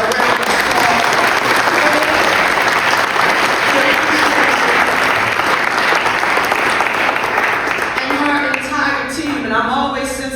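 Sustained, loud round of applause from a crowd at a Philadelphia city event honoring the Commerce Department, dense clapping filling the whole stretch and thinning slightly near the end as voices begin to show through.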